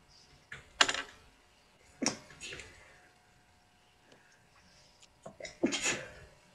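Two or three sharp sneezes spaced across a quiet room during a watercolour class, with faint clicks and breathing between them.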